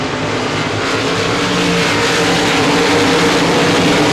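RaceSaver sprint cars race around Devils Bowl Speedway, a loud, dense pack of engines roaring continuously as the field swarms past, with no voices over the din.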